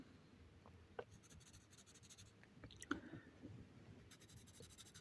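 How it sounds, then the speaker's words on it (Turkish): Pencil strokes sketching on paper, heard as soft, close scratchy scribbling with a few sharper taps, steady and quiet with no talk. "İlk dokunuşlar, ilk karalamalar başladı bile"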